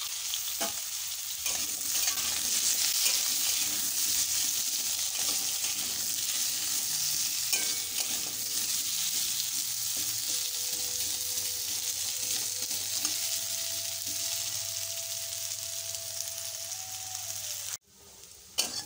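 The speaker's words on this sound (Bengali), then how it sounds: "আলুটাকে লাল লাল করে ভেজে নিয়েছি।" Turmeric-dusted potatoes fry in hot oil with a continuous, close sizzle for nearly twenty seconds, joined by occasional stirring scrapes and ending in a brief clatter.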